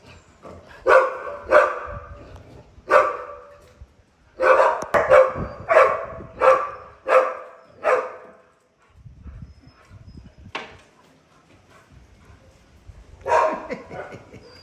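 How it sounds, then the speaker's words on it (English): Several dogs bark near the Katchikally Crocodile Pool in Serekunda, The Gambia, in loud bursts of rapid, repeated barks with short pauses, then a lone bark and a final burst. "Just hanging out and torturing the doggies."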